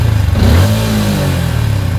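Yamaha Sniper 155 motorcycle engine with a loose manual cam chain tensioner, 18,000 km, running close and steady with a loud low mechanical drone and a slight rise in revs early on.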